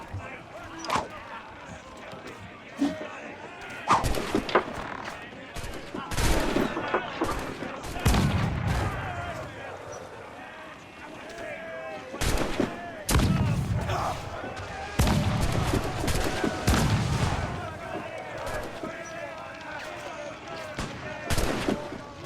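Pirate ship cannons in Assassin's Creed 4 firing in repeated loud broadside blasts at irregular intervals, with crew voices shouting between shots.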